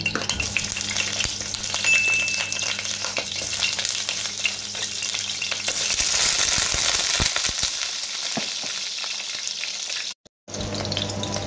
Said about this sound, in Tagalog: prito ko na rin guys itong ating talong